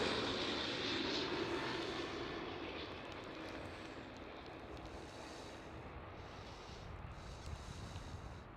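A KLM Airbus A330 lands at Amsterdam Schiphol with a broad, distant jet roar that fades slowly, faint under light wind noise.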